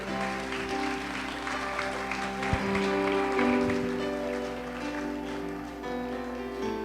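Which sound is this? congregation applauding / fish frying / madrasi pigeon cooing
congregation applauding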